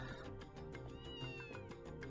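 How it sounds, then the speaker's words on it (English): A video game cat in Ys 2 gives a short meow over a looping, rhythmic game music track, the call rising and falling once near the middle, fairly faint and without speech. "How are you doing, cat?"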